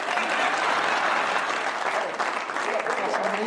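Dense studio audience applause on a French TV look-alike show, continuous and fairly loud, with crowd voices blended into the clapping for the whole stretch.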